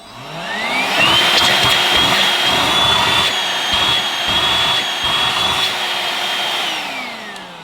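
Goblin 2-in-1 cordless stick vacuum in handheld mode at its single suction speed, a loud, steady high-pitched motor whine spinning up, holding constant and then winding down, close and alone.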